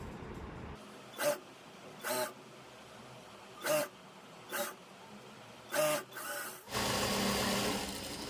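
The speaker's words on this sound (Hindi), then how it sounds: "यहाँ से मिलाते हुए इस तरह से ये सिलाई लगा लेंगे" A sewing machine stitches a palazzo pants seam, running in several short separate bursts and ending in a longer steady run, close by and fairly quiet with no talk.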